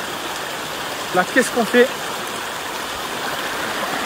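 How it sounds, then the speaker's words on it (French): A mountain river flowing nearby with steady broadband rushing and gurgling, while a person briefly speaks over it in French. "la rivière, elle est juste là"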